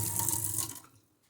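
A kitchen faucet fitted with a filter runs water in a steady hiss for under a second, then cuts off, leaving a faint dripping tail.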